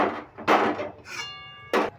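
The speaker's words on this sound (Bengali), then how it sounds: "আবার কড়াইটা বসিয়ে দিলাম" A metal kadai (wok) is set back down on a kitchen stove, giving a few close, dull knocks and thunks with a short ringing tone between them.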